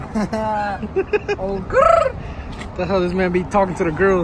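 A man does a high, warbling bird-call imitation with his voice, a short rising-and-falling whoop in the middle of casual chatter among friends on a beach trip, with other voices talking before and after.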